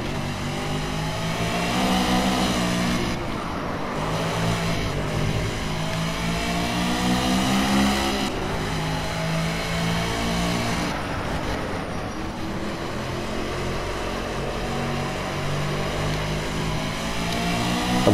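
A race car engine revving and droning around the Dubai Autodrome in the Project Cars video game, a continuous loud engine tone rising and falling through gear changes for the whole stretch, with no talk.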